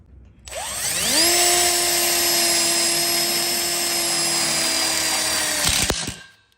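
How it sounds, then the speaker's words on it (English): Power drill driving self-drilling screws into a welded steel split bar counter frame, one steady high-pitched whine that spins up, holds loud and close for about five seconds, then cuts off. "We'll go ahead and screw it in now."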